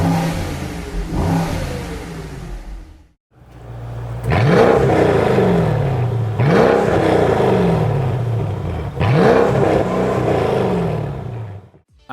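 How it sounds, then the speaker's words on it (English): Two generations of Mercedes SL55 AMG V8 engines revving in turn: repeated loud rising throttle blips, each climbing and falling back, with a brief gap between runs and no talking. "And now let's hear how the SL55s of different generations sound."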